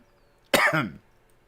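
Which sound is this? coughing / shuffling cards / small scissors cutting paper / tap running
coughing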